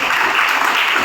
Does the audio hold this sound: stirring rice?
no